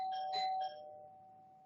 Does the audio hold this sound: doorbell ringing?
yes